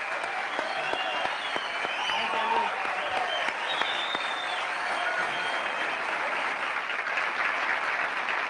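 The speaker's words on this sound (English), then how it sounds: "He's walking out in the hallway and everyone's cheering him on." A large studio audience applauds and cheers for Hank Aaron as he walks out, a dense, loud, continuous wash of clapping with whoops and voices mixed in, steady throughout.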